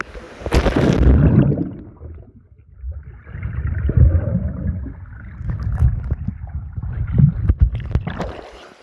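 Someone dives into a river, landing with a loud splash and burst of churning water near the start, followed by lapping and gurgling water while people cheer and talk nearby.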